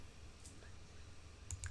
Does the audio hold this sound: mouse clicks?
yes